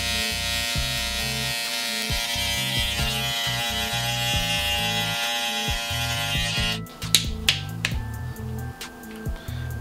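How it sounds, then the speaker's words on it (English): Electric T-liner hair trimmer buzzing steadily up close while cutting hair for a high taper fade, a continuous motor hum with sharp clicks and taps breaking in near the end. "start with the T-liner."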